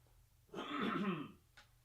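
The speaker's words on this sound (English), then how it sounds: "I have to cough or sneeze or something" A man gives a single short throat-clearing cough close to the microphone, followed by a faint second catch a moment later, against a quiet background.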